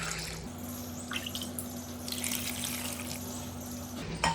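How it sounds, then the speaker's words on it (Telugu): Water poured into a pot of greens, green chillies, coriander, curry leaves, garlic and turmeric for tamarind-leaf dal, a steady close splashing trickle running for about four seconds with a low constant hum underneath. "నేను ఇక్కడ 2 గ్లాసులు నీళ్ళు పోసాను"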